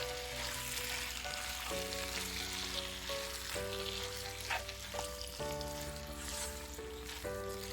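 Tomato and salt stirred into chicken curry frying in a pan, giving a constant sizzle with occasional scrapes, while a steady musical tone plays underneath throughout.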